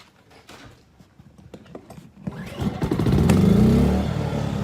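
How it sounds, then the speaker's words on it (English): A WEN 56200i 2000-watt portable inverter generator starts after a few quiet clicks, then catches and roars into a loud, steady engine hum that settles into continuous running, with no talking. "And now I'll turn on the WEN."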